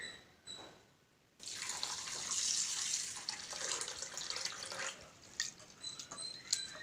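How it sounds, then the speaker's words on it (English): Rice is being washed by hand in a bowl of water, with sloshing and swirling splashes after a brief quiet opening, steady and close, with no voices. "Now we will wash the rice."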